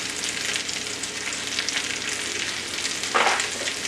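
Home fries sizzle in a cast iron pan with garlic, parsley, paprika and crushed red pepper flakes, a continuous close frying hiss with a brief scraping stir near the end.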